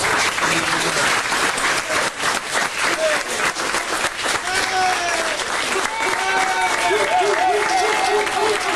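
Applause and scattered cheering from a union crowd for its president after a paper-company strike, sustained for the whole stretch, with voices and a few whoops rising over the clapping.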